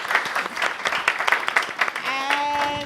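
Audience applause at a creative-industry mentoring talk in London, steady clapping across the whole stretch; a sustained whistle-like tone rises partway through, and voices mingle with the clapping.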